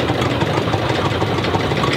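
A fishing boat engine with a side-mounted propeller runs steadily at a large fishing harbour, a loud, close, continuous knocking rumble with no talking.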